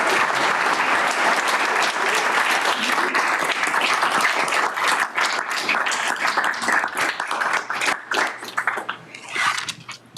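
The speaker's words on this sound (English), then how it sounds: "I would actually say if we could start by giving the chair a round of applause for his time" An audience applauds a chair at a gathering, steady dense clapping for about ten seconds that thins and fades out toward the end.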